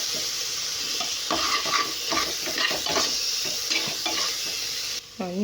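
Prawn biryani masala is stirred in a pot, with a steady sizzle of frying broken by repeated scraping and clinking strokes of the spoon against the metal, close and busy.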